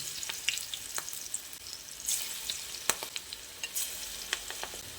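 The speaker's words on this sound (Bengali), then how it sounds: "বড়াগুলো গরম তেলের মধ্যে ছেড়ে দেওয়ার পর এক সাইডটা একটু ভালোভাবে" Flattened Malabar spinach leaf fritters frying in hot oil in a frying pan produce a soft, even sizzle broken by frequent sharp pops and crackles, with no voices.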